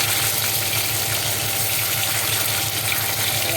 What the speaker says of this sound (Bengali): একটু ভেজে নেবো সুন্দর করে